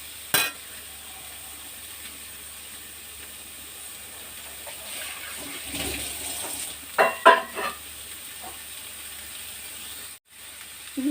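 Carrot pieces frying in a pan and being stirred, a soft continuous sizzle with a few louder scraping stirs toward the end, heard alone without talk.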